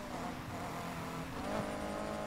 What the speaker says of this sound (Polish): Słyszę jakąś przepustnicę chyba. Albo sprężarka.